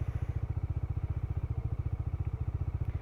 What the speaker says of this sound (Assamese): বাইকখন ঘূৰাই লৈছোঁ